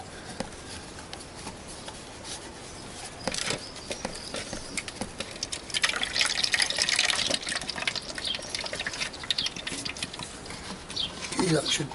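Water from the header tank of a Honda CBR motorcycle drains and splashes in a steady, fairly quiet trickling patter that grows busier partway through, with no talking.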